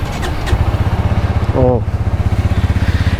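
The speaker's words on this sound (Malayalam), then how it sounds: "വണ്ടിയുടെ എക്സോസ്റ്റോടും കാരണം ഞാൻ ജസ്റ്റ് കേൾപ്പിച്ചു തരാം" A Bajaj Pulsar N150 motorcycle idles close by, its exhaust giving a steady, even low thrum with a brief louder burst partway through, and a short spoken exclamation over it.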